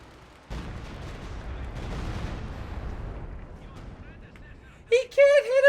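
A mortar fires shells in the Company of Heroes 2 video game: a heavy boom with a long rumbling tail, then sharper harsh bursts near the end.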